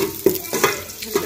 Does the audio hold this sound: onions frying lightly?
yes